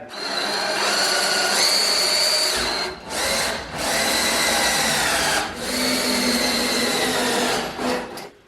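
A power drill whines loudly in several sustained bursts with brief pauses as it drives fasteners through the bottom frame of a raised garden bed into 4x4 posts. The pitch shifts under load.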